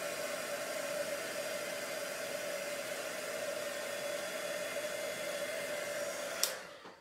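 Heat tool blowing steadily to melt embossing powder, a continuous whirring hiss with a faint hum, close and unbroken until a click as it switches off near the end; no voices.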